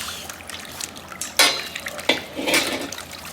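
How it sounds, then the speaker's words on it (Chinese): Tap water running and splashing as pieces of mutton are rinsed in a home kitchen, a few short gushes and trickles over quiet, close background. "羊肉捞出来再洗一下。"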